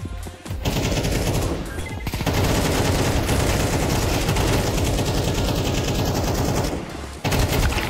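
Dense, continuous automatic gunfire from a video game, heavy sustained bursts with brief pauses near the start and end, loud and close throughout.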